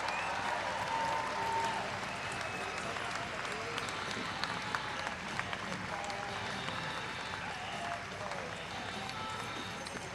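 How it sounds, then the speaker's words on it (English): An audience at a horse show cheers and claps in an arena during an evening drive-off at a world show, sustained applause with scattered hoof clatter and an announcer's voice over it. "Let's cheer on these exhibitors."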